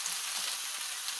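Chicken breast stir-frying with bean sprouts and peppers in a hot pan, a soft, even hiss of sizzling over a brief moment with faint stirring, no talking.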